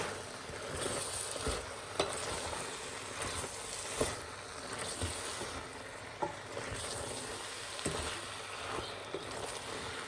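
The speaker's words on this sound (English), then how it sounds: "Mix all of that vegetables up inside of it like that." Vegetables are stirred through a diabetic-friendly curry frying in a pot, producing a soft continuous sizzle with occasional utensil knocks and scrapes, fairly faint and without talk over it.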